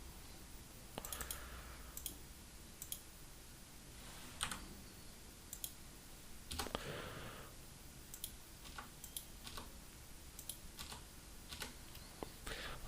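A computer keyboard and mouse click quietly and steadily at close range during work on a computer, with irregular taps and occasional sharper clicks against a faint background hiss.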